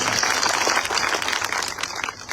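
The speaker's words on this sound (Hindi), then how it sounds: "आप सब जोरदार तालियां बजाएं" An audience at a party political rally claps loudly, a dense burst of applause that fades toward the end.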